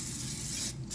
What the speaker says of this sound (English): I told you how much I love this butter spray, and that's what I'll be using.